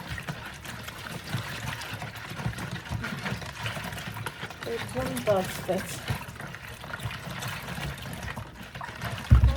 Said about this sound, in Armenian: գոլ ջուր եմ լցնում